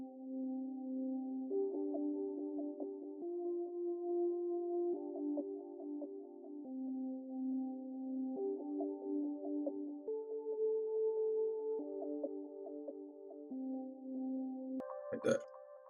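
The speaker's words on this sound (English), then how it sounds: "I EQ'd it so it had like an underwater type of sound to it, and I added some flankers on it to add some extra texture to the sound" Reversed sample slowed to half time and processed with delay, underwater-style EQ and flanger, a murky, muffled sequence of sustained low tones shifting pitch in slow steps, ending with a brief brighter burst.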